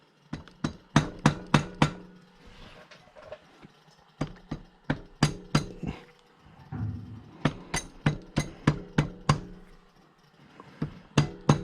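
A hammer taps on motor parts during an engine rebuild, striking in quick bright bursts of several sharp metallic knocks separated by short pauses, close and clear with no talking.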